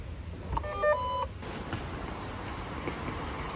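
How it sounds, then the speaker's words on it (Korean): Innsbruck tram heading up toward the Nordkette, with a short electronic multi-tone beep chime early on, then a steady low rumble of the moving tram car. "호텔 바로 앞 지하철역에서 트램을 타고 올라갈 수 있어요."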